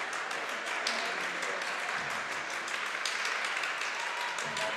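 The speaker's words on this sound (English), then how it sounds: "the Southern boys making some clapping noise down there" Basketball fans at a Southern versus Parkview high school game clap steadily in a gym during a free throw, a dense continuous patter of many hands filling the arena at moderate loudness.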